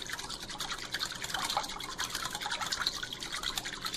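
Thick curd (dahi) is stirred briskly with a little water for moong dal dahi vada, making a continuous wet, squelching, scraping sound close up.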